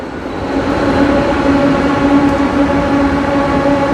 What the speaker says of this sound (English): You can see the train on the down level about to stop.